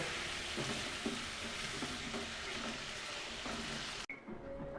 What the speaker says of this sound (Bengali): আলুটা দু চার মিনিট কষবো তারপরে চিকেনটা অ্যাড করব